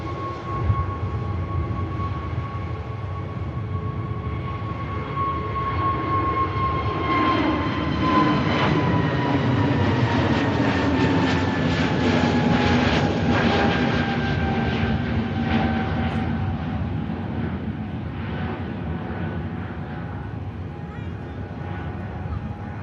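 SAS airliner taking off at Manchester Airport, a long steady jet engine roar swelling and slowly shifting in pitch as it climbs away, heard from a distance.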